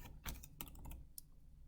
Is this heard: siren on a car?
no